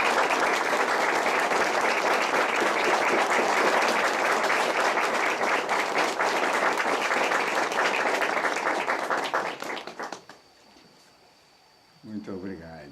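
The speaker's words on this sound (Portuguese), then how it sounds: "Uma salva de palmas para vocês." An audience at a church gathering applauds loudly and steadily for about ten seconds. The clapping then fades, and a voice begins speaking.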